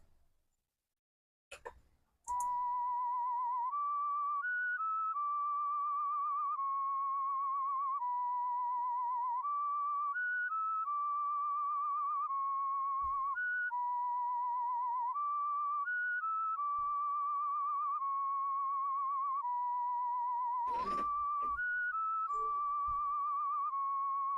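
A steady, clear whistled tone plays a stepping melody for about twenty seconds in a hip-hop beat made in FL Studio, with brief percussive hits near the start and near the end.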